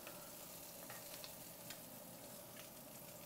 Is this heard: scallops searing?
yes